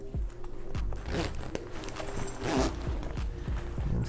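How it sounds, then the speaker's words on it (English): A zipper running along the back of a Venum Challenger Xtrem camo and burgundy backpack as it is closed, with a series of short, close rasping pulls and handling clicks. "Gonna get the zipper on the back."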